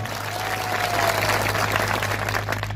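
Applause for police officers keeping order at a public gathering: a sustained, dense wash of many hands clapping at steady loudness across the whole stretch, with no break and no voice over it.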